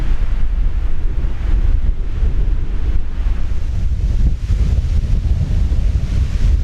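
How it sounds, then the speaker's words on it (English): Strong wind roars across a hilltop above the Columbia River, a loud, constant rumbling buffet that thumps against the microphone with no pause and no talk. "Yeah, it's really windy up here."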